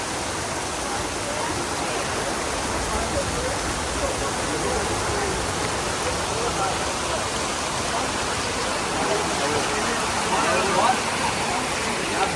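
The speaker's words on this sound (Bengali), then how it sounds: "সাদা হয়ে গেছে, বৃষ্টি হচ্ছে পুরো।" Heavy rain pouring at a beach resort in Mandarmani, a loud, dense, unbroken roar like rushing water, with people talking faintly underneath.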